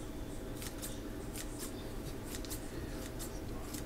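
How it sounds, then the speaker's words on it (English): Rapid snips of scissors cutting fresh basil, a string of quick crisp cuts in an irregular rhythm, close and clear over a steady background hiss. "cut some pieces with the scissors."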